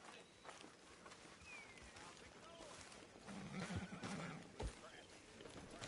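A horse whinnies and hooves clip-clop over a busy background in the video game Red Dead Redemption 2, with voices talking throughout.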